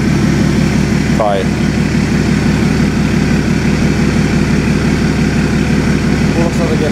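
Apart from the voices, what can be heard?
BMW 335i engine idling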